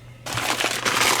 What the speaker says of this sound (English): Unwrap the next carb here.